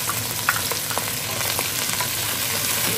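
Mint and fenugreek leaves fry in a pan, giving a steady close sizzle with small crackles and stirring scrapes throughout.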